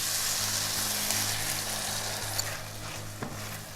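Corn slurry is poured into a pan of stir-fried vegetables over a medium flame, a strong continuous sizzle with faint scraping and a couple of soft knocks, close and steady throughout.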